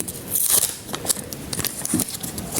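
Crisp paper crackling and rustling up close, with short tearing and crinkling bursts as a package is handled and opened.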